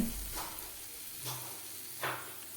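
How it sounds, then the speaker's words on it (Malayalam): Cinnamon, cardamom and star anise sizzle in coconut oil in a pan, a soft steady frying hiss with three brief stirring scrapes at intervals, quiet and close. "കുറച്ച് വെളിച്ചെണ്ണ ഒഴിച്ചു കൊടുത്ത് അതിലേക്ക് രണ്ട് കഷ്ണം പട്ടയും ഏലക്കായും താറാമ്പൂവും കൊടുത്തിട്ടുണ്ട്"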